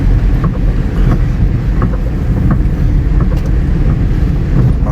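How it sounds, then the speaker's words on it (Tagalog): Strong wind roars steadily past a moving taxi in Baguio City, a loud continuous rush with low rumbling road noise and no pauses. "Hangin sa labas."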